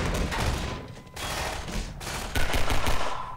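Half-Life 2 gunfire rips through a staircase in dense, loud automatic bursts, a continuous fusillade with brief pauses between volleys.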